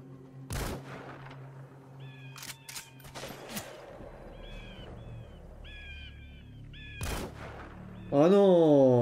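Gunfire from Metal Gear Solid 5 breaks out in a few sharp, loud cracks spaced over several seconds, with game ambience and faint bird calls between them and a harsh swelling noise at the end.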